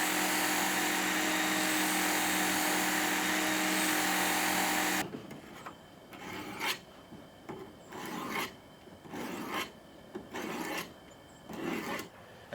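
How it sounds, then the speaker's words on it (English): A knife rasps against a Work Sharp powered belt sharpener, first as one loud continuous grinding run for about five seconds, then as a series of shorter, quieter rasping passes with brief pauses between them. "We use the Work Sharp belt sharpener."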